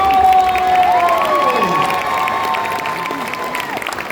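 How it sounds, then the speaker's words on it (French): An audience at Geek Days Lille claps and cheers for a voice actor, a loud crowd roar of applause lasting the whole stretch, with whistle-like tones and shouts rising over it. "Merci de faire un tonnerre d'applaudissements pour Bruno Magne"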